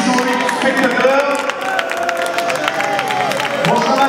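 Football spectators in a stadium clap and cheer loudly after a Sochaux match, a dense crowd roar with shouts rising above the clapping and voices mixed throughout.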